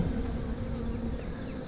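Honey bees buzz steadily on a hive frame, a dense continuous drone at close range with no other sounds.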